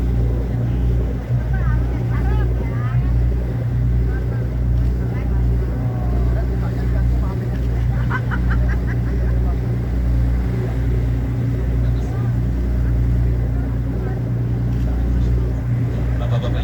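Steady low engine rumble and hull drone of a Bosphorus cruise boat on the open sea, continuous and fairly loud, with faint wind and chatter from passengers on the open deck.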